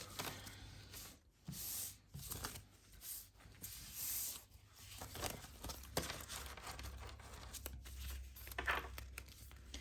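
Paper cash bills being counted out of budget envelopes, with close, crisp crinkling and flicking of notes in quick irregular bursts, fairly quiet and with no talking.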